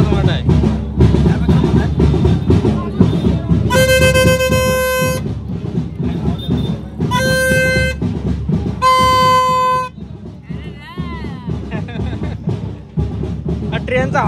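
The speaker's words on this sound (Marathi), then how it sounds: "ट्रेनचा हॉर्न आहे तो." A train horn gives three sustained blasts near a Shimga festival palanquin procession at Karambele, Sangameshwar, ringing out loudly over steady crowd noise and festive commotion.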